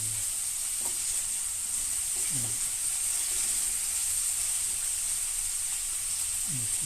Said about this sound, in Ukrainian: Хай воно обсмажується з усіх сторін.